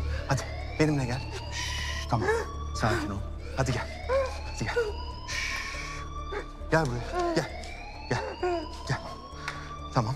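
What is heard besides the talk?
alarm sounding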